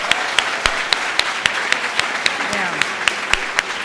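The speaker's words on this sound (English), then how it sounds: "now we're allowed to do lots of claps" An audience at a public event claps in a sustained round of applause, with sharp individual claps standing out near the microphone in a quick, fairly regular rhythm, and a brief spoken word underneath.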